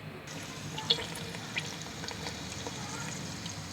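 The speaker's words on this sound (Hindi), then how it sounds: "सबसे पहले हमने इसमें ऑयल डाला है और साथ में इसके प्याज डालेंगे" Sliced onions frying in hot oil for chicken pulao give a faint, steady sizzle close by, with a couple of small clicks and pops and no voices.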